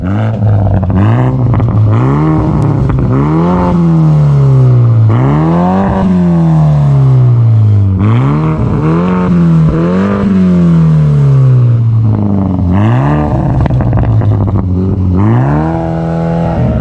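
From behind a tuned 2015 BMW 428xi Gran Coupe M Sport, its 2.0-litre turbo four is revved hard about six times, each rise climbing and falling back, loud and close with no talking.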